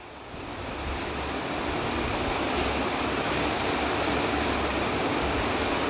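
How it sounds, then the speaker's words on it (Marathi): Onions and green masala paste sauté in oil for a whole masoor dal curry, giving a dense, steady sizzling hiss that builds over the first second, then holds loud and even with no talking. "आपण त्याच्यामध्ये जे आपण हिरवं वाटण वाटलं होतं ते टाकूया आणि वाटणही चांगलं तेल सुटेपर्यंत परतून घेऊया"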